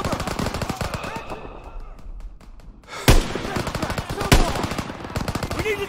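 An enemy machine gun in the World War II shooter Call of Duty: WWII fires rapid, loud bursts of shots, broken by a brief lull and two sharp louder cracks, with faint voices mixed underneath.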